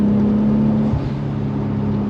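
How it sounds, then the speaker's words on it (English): 1991 Toyota Supra Turbo with a brief blow-off valve release as the engine note drops, heard from inside the car over a steady engine hum, short and fairly loud. "Nice little blow-off valve sound there."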